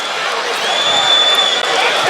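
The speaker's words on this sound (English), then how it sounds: "Woke the crowd up." A boxing arena crowd roars steadily during a heavyweight bout, a dense, sustained wash of cheering and noise with no breaks, loud and distant-sounding.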